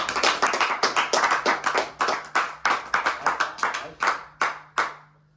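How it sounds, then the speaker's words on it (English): A round of applause sounds as sharp, distinct claps from a small group, close and rhythmic, thinning out and slowing until the last few single claps trail off. "Everyone give a round of applause."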